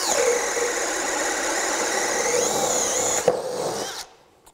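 Craftsman V20 brushless half-inch hammer drill driving a one-inch auger bit through wood, a steady loud whining drone under load that bogs slightly, then cuts off as the bit breaks through.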